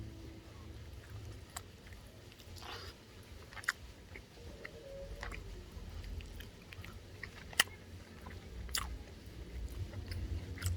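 Smoked chicken marinated in Red Stripe beer being eaten, with soft close-up chewing and occasional sharp bites over a low steady background hum, no speech.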